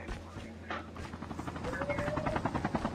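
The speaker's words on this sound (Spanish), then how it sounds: "se vino un team entero con un helicóptero" A helicopter arrives in a mobile shooter video game, its steady rotor chop building in loudness over a dense mix of game effects and voices.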